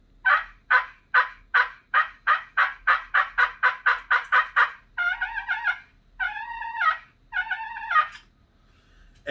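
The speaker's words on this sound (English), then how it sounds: "all you'd have to do with it is you place your fingers on it and push down the plunger." A push-button plunger turkey call pressed repeatedly, giving a rapid run of about fourteen sharp, even yelps followed by a few longer, raspier clucking purrs, loud and close with no talking.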